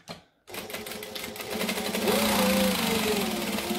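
A sewing machine stitches through a backpack made without binding, running in a steady, fast mechanical rattle that starts after a short silence and builds louder and denser toward the end, with no talking.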